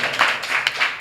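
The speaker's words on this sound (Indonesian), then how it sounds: "Tepuk tangan semuanya untuk Mas Ubay." A live talk show audience claps in a short burst of applause, a few uneven swells of hand claps filling the room without voices.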